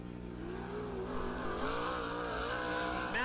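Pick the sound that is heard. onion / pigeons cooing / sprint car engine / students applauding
sprint car engine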